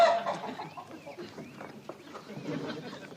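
A chicken clucks in short, irregular bursts close by, with people talking over and around it.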